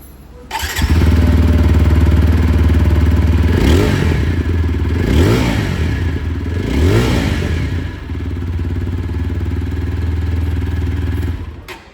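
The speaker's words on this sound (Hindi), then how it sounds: "और अब मैं आप लोगों को यहाँ पर जो अपाचे 164V है इसकी भी आवाज़ सुना दूँ।" A TVS Apache 160 4V motorcycle with a bullpup exhaust starts up close by and settles into a steady, thumping idle. The engine rises in three quick throttle blips, returns to idle and then cuts off.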